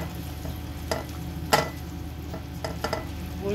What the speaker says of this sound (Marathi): आता गूळ विरघळेल बरोबर तुपाबरोबर आपल्याला मीडियम टू लो गॅसवरच व्यवस्थित गूळ वितळून घ्यायचा आहे